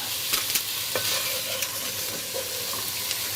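Shrimp sizzle in a hot pan for a Thai fish soup, a steady close hiss broken by a few sharp clicks and scrapes of stirring.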